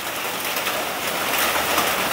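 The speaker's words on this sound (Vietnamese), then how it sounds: "hôm nay mưa quá" Heavy rain falls as a dense, continuous hiss that stays steady and fairly loud for the whole stretch, with no voices over it.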